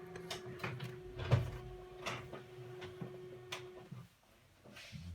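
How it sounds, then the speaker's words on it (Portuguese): An office printer whirs with a steady hum, broken by clicking and clacking mechanical knocks and one louder clunk. The motor stops near the end and leaves a quieter room. "De novo essa impressora fazendo barulho"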